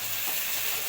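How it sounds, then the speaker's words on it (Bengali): Ginger and garlic paste fry in a pan with tomato and green chilli, giving a dense, even sizzle that holds steady throughout a brief moment, close and loud, with no voices. "আদা বাটা আর রসুন দিয়ে বেশ ভাজা হচ্ছে। এবার ভাজা চলছে।"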